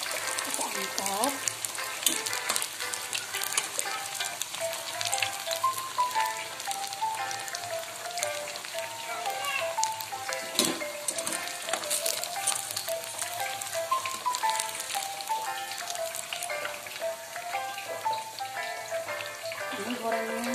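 Chicken nuggets fry in hot oil, a steady dense crackle and sizzle running throughout, close and moderately loud with some light clinks and a voice briefly heard.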